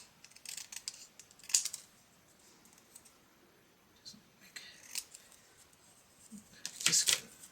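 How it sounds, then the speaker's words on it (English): Scissors trim the edge of a sheet of cardstock for a handmade card in a few quick snips spread across the moment, with soft handling rustles between the crisp cuts. "Maybe trim this up a little bit, the back cardstock."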